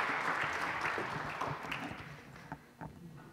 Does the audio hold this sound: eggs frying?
no